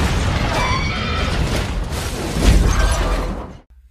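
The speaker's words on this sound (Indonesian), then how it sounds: "Untungnya laptop tersebut berhasil dilempar sebelum bom meledak." Film bomb explosion, a loud, dense rumbling blast with debris-like crackle that holds for several seconds and then cuts off abruptly into silence.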